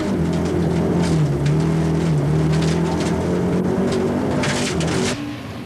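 Audi rally car on a stage run at the Lurgan Park Rally, engine loud and close, pitch sweeping up and down through gear changes with crackles and gravel noise, fading slightly at the end.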